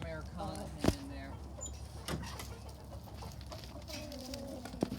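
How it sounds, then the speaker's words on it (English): Barred Rock, Leghorn and Americana hens in a backyard flock give soft clucks and short calls, with a few sharper cries standing out over a steady outdoor background and a voice talking. "These are my barred rocks, leghorns, and there's one Americana hen in there."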